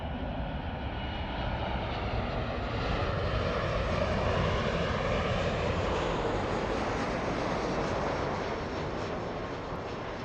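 A United Airlines jet in Continental retro livery roars past at LAX, a loud broad jet engine rush that swells to a peak and slowly fades, with no voices over it.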